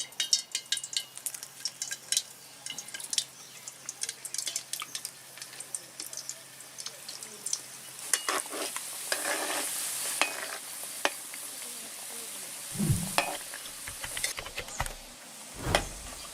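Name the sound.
frying mung dal puli pitha in oil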